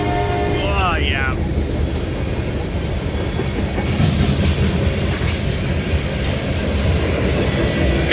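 A train rumbles past close by, with steady clattering wheels, a brief squeal near the start, and occasional voices under the noise.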